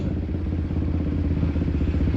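Motorcycle engines drone loudly and steadily at a drag strip, a thick, continuous rumble close by with a rough clattering edge and no pause.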